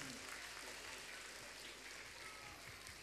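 A church congregation at a feast-day Mass claps together in sustained, dense applause, heard faintly at a distance as a steady patter.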